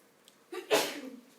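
A single sharp sneeze bursts out in a classroom, fairly close and loud, preceded by a short intake of breath and fading quickly into quiet.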